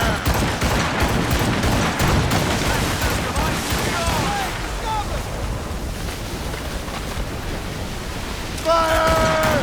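A volley of ship cannons fires in Assassin's Creed Rogue, a dense, continuous roar of booming blasts over sea and surf noise, loud and sustained, with shouted commands mixed in.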